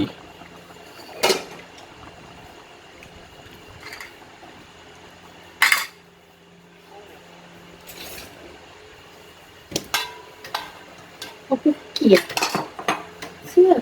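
Catfish curry with coconut milk and glass noodles is scooped into a bowl, heard as scattered clinks and scrapes of a ladle and spoon on pot and bowl, growing busier toward the end over quiet pauses.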